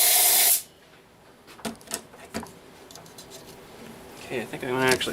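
Brake cleaner sprays in a loud, close hissing burst onto greasy parts of a John Deere 110 TLB tractor, then stops; scattered clinks and handling noises follow before a buzzing, whining sound rises at the end.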